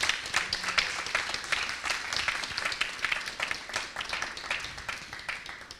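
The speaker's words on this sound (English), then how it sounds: "let's give them all a round of applause for their commitment" Applause from an audience at a COP26 climate reflection event, a moderate, even patter of many hands clapping that carries steadily throughout, at a slight distance.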